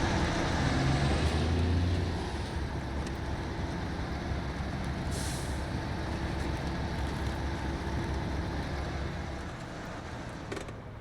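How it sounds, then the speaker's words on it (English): Engine of the RNG US-K23 truck, an MTVR MK23, drives steadily in the SnowRunner video game, a continuous low rumble with broadband road noise, fairly loud and unbroken throughout, no voices. "This is a pretty badass truck, and it is flying through this, guys, with no issues at all."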